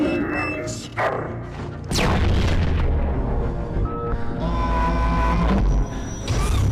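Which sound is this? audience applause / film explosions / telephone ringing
film explosions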